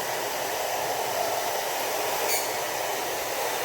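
A handheld hair dryer that is eight years old blows steadily on wet long hair, producing a loud, continuous whooshing hiss that runs unbroken throughout with no talking.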